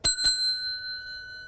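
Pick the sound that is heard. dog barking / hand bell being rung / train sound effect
hand bell being rung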